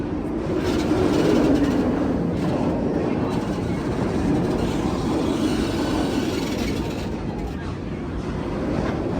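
Steady rumbling train noise fills the whole stretch, a continuous rolling roar from inside a moving railcar with no clear voices.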